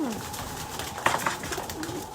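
Pigeons coo inside a coop, with a couple of close, soft throaty calls over a low background murmur.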